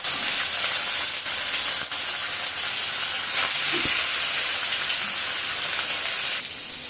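Fish frying in hot oil in a village home kitchen gives a steady, loud, hissing sizzle that runs unbroken throughout, with no voices.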